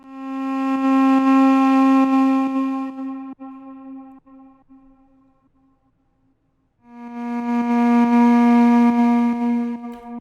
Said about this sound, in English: this layer probably sounds more like a duduk